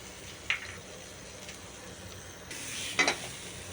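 Pepper, cumin, fenugreek, curry leaves, dried chillies and coriander dry-roast in a pan for Kerala sadhya sambar, giving a soft continuous sizzle with two sharp scraping stirs of a utensil against the pan.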